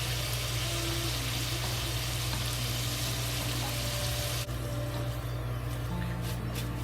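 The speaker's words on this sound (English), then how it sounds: "add more sweet potato into it to fry" Sweet potato sticks frying in hot oil, a constant close sizzle and bubbling hiss with a low steady hum underneath, slightly softer after a brief dip midway.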